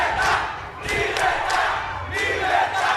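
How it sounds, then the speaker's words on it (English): A crowd of protesters in Havana, Cuba shouts for liberty: loud massed voices rise and fall in waves of chanting and yelling, sounding somewhat distant and reverberant. "You can hear them here yelling for liberty."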